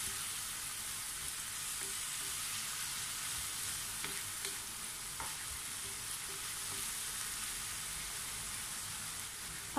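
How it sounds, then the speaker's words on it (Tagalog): Green beans with sauce in a pan give a faint, steady sizzle with a few light scraping stirs, quiet and even throughout. "Saka po natin ito haluin para mag-mix po lahat ang ating mga nilagay na ingredients."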